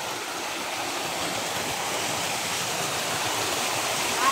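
Weakened flowing water from a stream, a steady broadband rush with no break, fairly faint and alone without talk.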